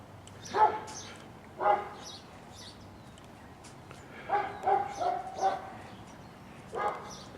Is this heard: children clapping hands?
no